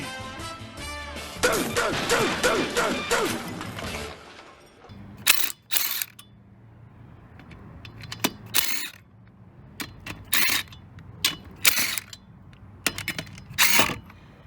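Lug nuts being removed from a 2004 Buick Rendezvous wheel with a power tool, the nuts frozen: a brief burst of rattling mechanical clatter, then a series of short sharp metallic bangs and clicks with quiet gaps between them, close by.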